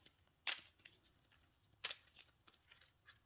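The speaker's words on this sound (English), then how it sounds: "Shuffle, shuffle." Metazoo trading cards being shuffled, with two sharp riffling bursts standing out above a low, quiet background of soft handling noise.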